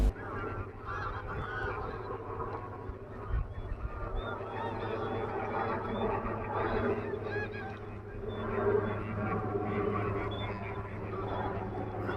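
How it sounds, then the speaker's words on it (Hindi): A large flock of migratory birds on the wetlands of Kashmir keeps up a dense, continuous honking chorus, with many overlapping calls near and far over a low steady rumble. "लगभग 5 लाख प्रवासी पक्षी कश्मीर के वेटलैंड्स में पहुंच चुके हैं।"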